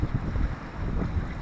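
A sailboat runs downwind under mainsail alone at nearly five knots on a crossing toward Île d'Yeu. A steady rush of wind and water noise fills the short span, with gusty low buffeting and no talk.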